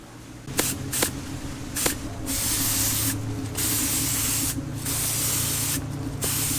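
A paint spray gun fires short test bursts, sharp hissing sprays separated by brief pauses, then longer sustained sprays, close and loud over a low background hum.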